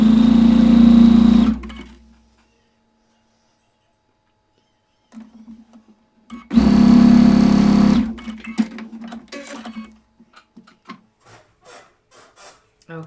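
A sewing machine runs in two short bursts of fast, even stitching, sewing quilt quadrants together, separated by a quiet pause, with soft fabric handling, rustling and small clicks afterward.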